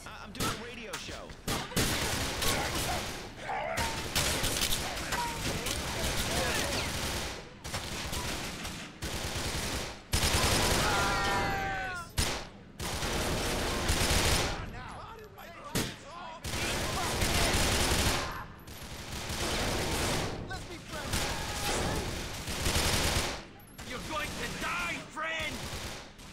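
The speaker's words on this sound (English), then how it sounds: "Shoot these commies." A heavy gunfight in Grand Theft Auto IV, dense loud volleys of rapid automatic fire broken by short pauses, continuing for the whole stretch with occasional voices between bursts.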